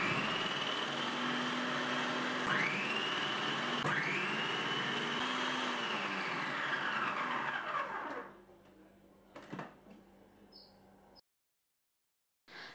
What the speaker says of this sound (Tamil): ஸோ இதில் வந்து நம்ம உருளைக்கிழங்கு கட் பண்ணி பார்க்கலாம்.